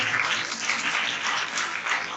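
A church congregation claps loudly in praise during a Urdu-language sermon, a sustained, dense wash of many hands with an even roar throughout and almost no voices over it.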